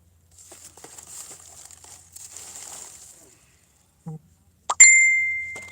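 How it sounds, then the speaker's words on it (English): Phone notification sounds going off at an Arizona campsite, with a bright ding near the end that rings out and fades, following faint rustling and small knocks. "I can hear my notifications going off."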